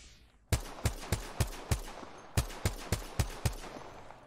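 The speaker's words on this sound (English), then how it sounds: "And I'm gonna go back to shooting them." Video-game gunfire rings out in a string of about a dozen sharp, loud shots, fired in two quick bursts with a short pause between them and no talking over them.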